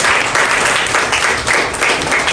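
Loud, steady audience applause at the opening of a Global Market Investment inauguration event, dense clapping filling the room without a break and with no voices on top.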